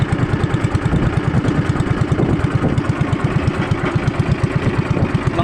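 A boat engine runs steadily with a fast, even chugging pulse and clattering mechanical tone, close and continuous throughout, with no talk.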